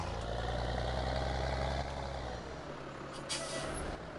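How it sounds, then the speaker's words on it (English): A heavy truck engine in Farming Simulator 19 rumbles, then air brakes release with a hissing burst near the end, loud and close, with no talking. "Kind of the air brakes. That's what it sounds like."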